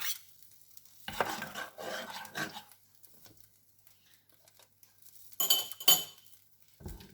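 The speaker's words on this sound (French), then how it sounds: "On va bien mélanger et on va faire une toute légère ébullition" Cream and agar-agar mixture stirred in a pan for panna cotta, bursts of scraping utensil strokes against the pan with quiet gaps between, ending with sharp metallic clinks, close and fairly soft.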